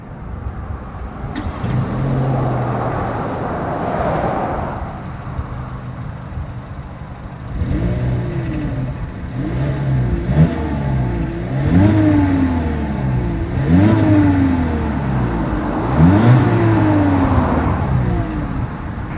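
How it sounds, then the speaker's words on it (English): A 2020 Volkswagen Jetta idles, then revs repeatedly, the exhaust note rising and falling in a series of sharp, loud bursts close by. "As always, here is that exhaust clip."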